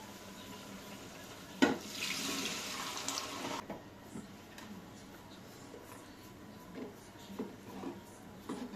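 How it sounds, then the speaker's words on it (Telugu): A short stream of tamarind water pours into cooked toor dal for about two seconds after a soft knock, then quiet kitchen clatter and faint bubbling follow. "పప్పులో చింతపులుపు పోసుకుంటున్నా"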